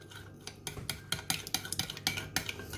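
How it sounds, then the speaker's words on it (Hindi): Chicken malai boti marinade with onions is stirred in a bowl, producing repeated wet squelches and light clinks of a utensil against the dish at a steady, moderately quiet pace. "अब हम इसको अच्छी तरह मिक्स करेंगे"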